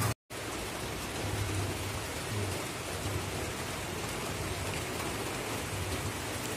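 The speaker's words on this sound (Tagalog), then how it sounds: "Spray ng ulan." Steady, dense rain hisses continuously, a broad wash of noise with no voices, after a brief moment of silence at the start.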